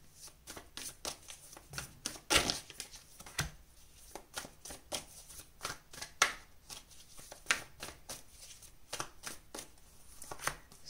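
Tarot cards being shuffled and drawn: a long run of crisp riffling and flicking bursts at an irregular rhythm, close and fairly quiet, with no talking.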